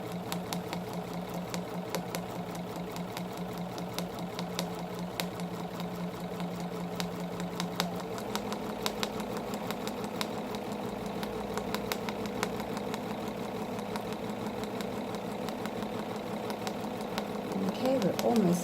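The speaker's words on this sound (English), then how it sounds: "the machine will actually sew 2 or 3 stitches" A Bernina sewing machine stitches curved crosshatching along a 3 inch round ruler, giving a fast, steady mechanical chatter that runs nonstop at close range with a slight change in pitch partway through.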